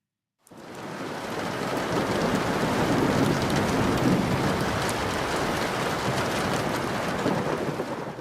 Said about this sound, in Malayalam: ഗൾഫ് നാടുകളിൽ ആകാശം നിറഞ്ഞു പെയ്യുകയാണ്